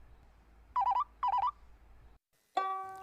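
A telephone ringtone sounds in two short warbling bursts of electronic trills, followed by a pause and a sharper tonal beep, fairly quiet over low background noise.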